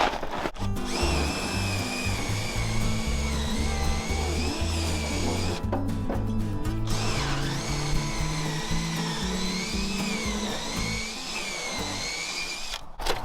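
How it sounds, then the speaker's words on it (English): A power drill bores a hole through a wooden trailer deck board, running steadily and loudly with strong tonal whine and brief pauses where the pitch dips and restarts. "now we can drill our hole"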